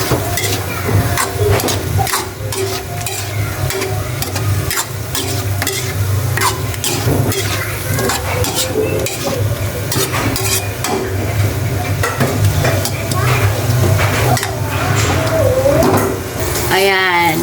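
Pork Bicol Express being stirred in a pan, a steady scraping and clatter of utensil against metal over a continuous sizzle of frying, loud and close throughout, with a brief squeaky scrape near the end.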